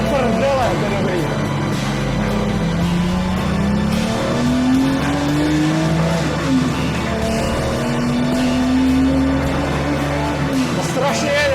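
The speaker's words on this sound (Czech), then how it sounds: "To strašně jede to auto." A Sportec restomod Porsche accelerating hard on an Alpine road, its engine note climbing steadily through the gears, loud and close, with a voice talking over it.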